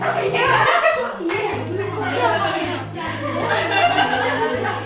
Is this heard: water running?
no